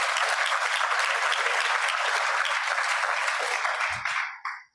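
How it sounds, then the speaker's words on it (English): An audience applauds at a Rotary club meeting, a dense, steady wash of many hands clapping close and loud, carrying on without a break before cutting off sharply at the end. "Another round of applause for him."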